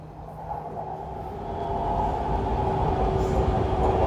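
A Bangkok MRT Purple Line metro train pulls away from a station, its steady rumbling hum and tonal motor whine growing gradually louder, heard from inside the car.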